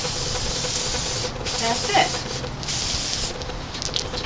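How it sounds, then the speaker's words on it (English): Clear acrylic sealer sprayed from a shaken can onto human hair wefts gives a steady, close hiss that runs nearly unbroken, with a brief spoken word partway through. "So I'm going to shake it up, and I'm just going to spray."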